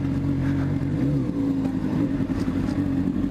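A Honda CBR 600 motorcycle with a Yoshimura exhaust idles with a low, throaty rumble, holding steady with slight revving swells throughout.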